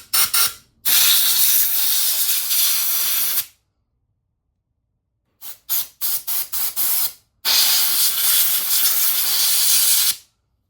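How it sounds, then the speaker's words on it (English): Water spraying through a yard debris collection system, long loud hissing blasts near the nozzle, broken by a silent gap and a run of short rapid bursts before another sustained spray. "We're gonna spray it out anyways, because we're here."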